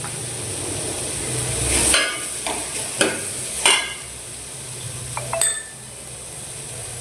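Spices fry for a fish curry, a steady low sizzle in the pan broken by a few sharp clinks and scrapes of a spoon stirring against the metal.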